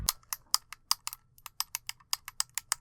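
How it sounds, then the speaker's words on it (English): Game controller back paddles click sharply against the plastic shell in a quick, uneven series of loud, close taps with a ringing edge. "Every single time they hit the plastic on the side of the controller, they ring like a motherfucker."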